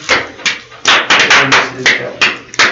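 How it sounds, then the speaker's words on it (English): Bursts of clapping from a group rise and fade in waves, with voices and cheers mixed underneath. "Let's have a round of applause for him."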